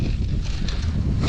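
Steady wind roars and buffets the microphone out on a frozen river during winter ice fishing on the Pechora, giving continuous broadband rushing noise with no talk.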